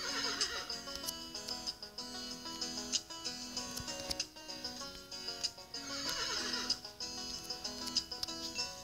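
Donkey braying in a video game, loud repeated hee-haw calls rising and falling over several seconds, mixed with clip-clop hooves and faint background music.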